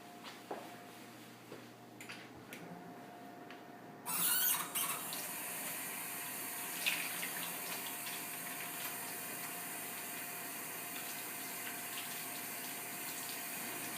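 Steady tap water runs continuously at close range during handwashing in a home kitchen where pork is being browned, beginning with a brief louder splash and then settling into an even, unbroken flow with no talking.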